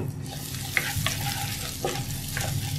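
Chopped onion fries in hot fat in a pan for restaurant-style chicken fried rice, a steady sizzling hiss with a low hum underneath and a few light stirring clinks, close up and without speech.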